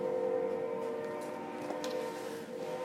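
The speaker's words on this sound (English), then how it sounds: "the train, the very annoying train, right?" A train passes outside a classroom, a faint sustained rumble with a tonal horn-like hum carrying steadily in the background.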